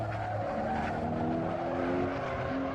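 A Porsche 911 Turbo S in Assetto Corsa slides all four tires, with overlapping tire squeals and skidding tones over engine noise, continuous and close.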